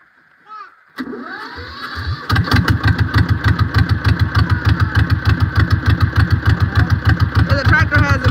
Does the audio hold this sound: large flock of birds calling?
no